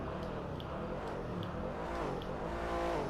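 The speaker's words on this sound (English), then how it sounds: "Give a little rev." A 1995 Jeep Cherokee XJ engine in Grand Theft Auto V revs steadily up close, a continuous throaty roar rising slightly toward the end, with no other sounds.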